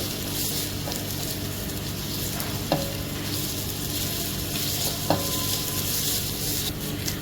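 Cumin and corn sauté in a hot pan with a steady, close sizzle and frying crackle, broken by a couple of light scrapes of a spoon stirring.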